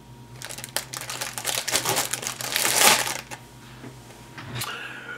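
Plastic bag holding 1/35 scale MiniArt D7 bulldozer model kit sprues is cut open and handled, producing close crinkling, rustling and snipping sounds with brief faint talk.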